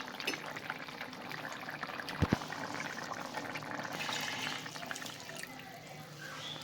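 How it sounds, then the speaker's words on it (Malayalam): Coconut milk poured into a simmering Kerala-style potato curry, a soft continuous liquid pour with faint bubbling and a couple of brief clinks, fairly quiet throughout. "ഇത് വെന്ത് ഇനി നമുക്ക് നമ്മളെ തേങ്ങാപ്പാലൊക്കെ ഒഴിച്ച് കൊടുക്കാം"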